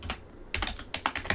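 Password being typed on a computer keyboard during a Linux login: a short run of crisp, close key clicks in small irregular bursts, with no voice.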